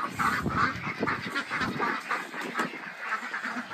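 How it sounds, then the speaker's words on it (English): A flock of farm ducks quacks over and over, nasal calls overlapping in a busy, close chorus with no talking. "We got some ducks to look at now."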